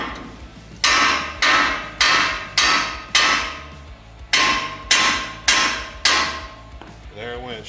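A hammer gives the front spindle of a Ford F-150 a series of sharp metallic taps, about nine evenly spaced strikes close up, with a short pause midway through the run.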